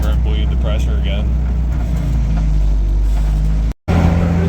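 A Honda Integra drives along the road after a brake bleed, its engine a steady loud drone with a constant low rumble, cut briefly by a sharp dropout near the end; a voice talks over it.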